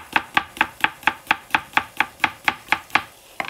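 A knife thinly slicing a Japanese cucumber on a board, fifteen crisp, evenly spaced chops in quick rhythm, close and clear with no talking.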